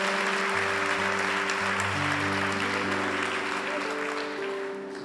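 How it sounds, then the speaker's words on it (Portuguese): A church congregation claps during a Sunday worship service, a broad continuous patter of many hands under sustained organ or keyboard chords, fading a little toward the close. "Aplauda ao Senhor"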